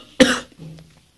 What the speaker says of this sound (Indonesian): Papa batuk mesti goyang kamera.